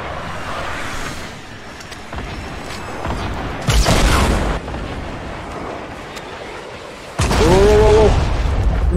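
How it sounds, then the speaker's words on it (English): Fortnite gunfire and explosive bursts hit around the player, two heavy booming impacts standing out over a constant rumble of in-game noise. "Someone's shooting us from the right"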